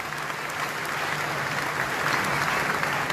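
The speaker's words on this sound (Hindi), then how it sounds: "प्रधानमंत्री उप प्रधानमंत्री जी को जोरदार ताली बजा के धन्यवाद दें" A large crowd gathered for a live religious gathering applauds loudly and steadily, a dense, continuous wash of clapping that holds at full volume throughout, with faint voices mixed underneath.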